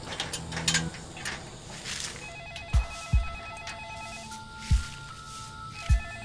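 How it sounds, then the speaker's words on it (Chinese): A telephone rings with a repeated electronic trill in a home, the pattern recurring through the clip alongside several dull knocks and thumps from people moving about. "妈，电话。"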